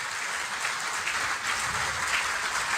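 Studio audience applause at a political comedy taping, a soft, steady wash of many hands clapping at a moderate distance, faint and even throughout.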